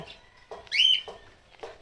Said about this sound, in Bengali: এই যে আমাদের গ্রে ককাটেল পাখি, তারা এখন ডাক দিচ্ছে